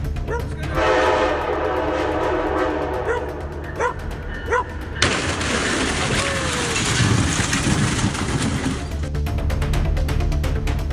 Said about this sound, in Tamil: ரயிலில் அடிபட்டு நொறுங்கியது